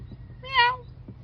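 A single short, high meow from a cat in Phoenix Park, Dublin, rises and falls in the middle of a quiet moment, nearby.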